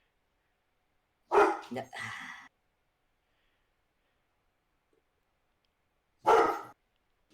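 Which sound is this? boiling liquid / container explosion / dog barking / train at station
dog barking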